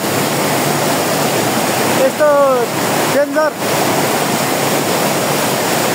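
Large river rushing past, a broad, continuous roar of water close by that holds steady throughout, briefly interrupted by a couple of short spoken exclamations.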